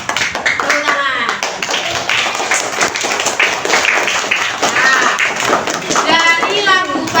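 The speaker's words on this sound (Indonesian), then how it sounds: "Tepuk tangan." Children in an Indonesian third-grade classroom clap hands in a lively mix of taps and claps, with young voices chattering and calling out throughout, busy and close.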